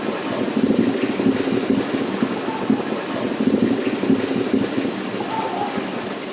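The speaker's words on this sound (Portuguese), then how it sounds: "Esse é o som do namoro das curimbas." Curimba fish in a breeding laboratory make a continuous low rumbling, crackling drone during courtship, steady and dense throughout with no voices.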